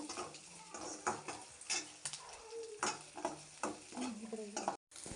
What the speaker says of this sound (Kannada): ಈಗ ಹಸಿಮೆಣ್ಸಿನ್ಕಾಯಿ ಕೂಡ ಫ್ರೈ ಮಾಡ್ಕೊತಾ ಇದ್ದೀವಿ